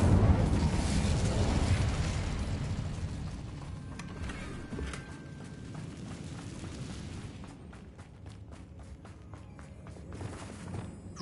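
An Incendio fire spell in Hogwarts Legacy erupts with a loud whooshing blast at the start, then fades into scattered crackles and footsteps within busy game sound.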